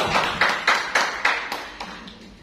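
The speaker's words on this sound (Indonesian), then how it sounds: "Tepuk tangan dulu." A church congregation claps hands together in a run of sharp, fairly even bursts that thin out and grow softer toward the end, with no speech over them.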